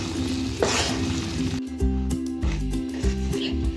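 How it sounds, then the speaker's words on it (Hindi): Gram flour roasts in a pan over medium heat for besan halwa, a soft sizzle broken by a spoon scraping and clinking against the metal in regular strokes, close up with no speech. "बिल्कुल दरमियानी सी आग पे इसको भूनना है।"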